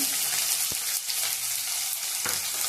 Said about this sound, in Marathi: कांदा तेलात चांगला भाजून घ्यायचा